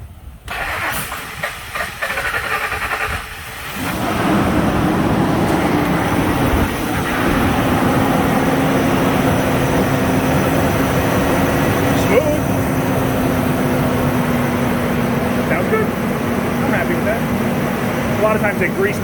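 A car engine with repaired spark plug threads cranks briefly, then catches and settles into a loud, steady idle that runs on alone close by.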